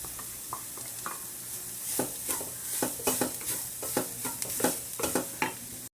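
Chopped cauliflower fries in a pan under a soft sizzle while a spoon stirs it, giving quick repeated scrapes and clinks that grow busier before stopping abruptly.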